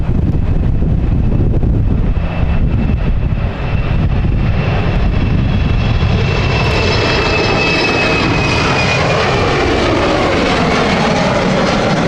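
A KLM airliner passes at London City Airport with a loud, steady engine roar rising into a whining tone, with wind buffeting the microphone throughout.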